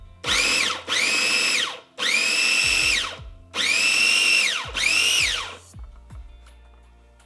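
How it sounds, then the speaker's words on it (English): Food processor chopping and grinding shrimp filling for siu mai in several loud whirring bursts, each winding up and down, separated by brief pauses and small clunks. "since I don't have amazing knife skills, the food processor comes in handy"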